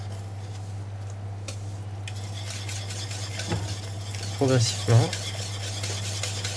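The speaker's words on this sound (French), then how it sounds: "il faut bien fouetter vigoureusement" A whisk beats lukewarm milk, added gradually, into a batter, making soft, rhythmic scraping and sloshing against the bowl over a steady low hum. A voice briefly says one word.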